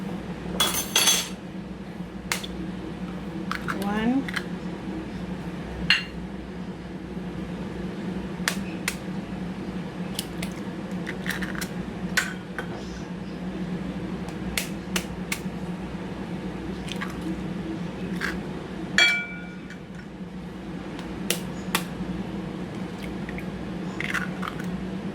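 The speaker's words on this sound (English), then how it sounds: "So I've got 4 large eggs here that I'm going to add in here" Four large eggs cracked one at a time into a bowl of lemon bar mix of sugar and plain flour, with sharp clicks of shell and a wet squish and plop as each lands, over a steady low kitchen hum.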